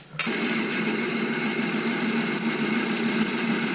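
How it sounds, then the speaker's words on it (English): A power drill starts abruptly and runs at a steady, high-pitched whine with a continuous buzzing grind, close and unbroken for several seconds, drilling undersized holes while repairing a gravity grain spreader. "So we're drilling undersized first, and then we'll get the final size."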